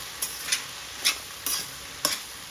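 Crispy Telangana-style okra fry being stirred in a hot pan with lemon juice and curd added, five quick scraping stirs over a soft, steady sizzle, close up and without talking.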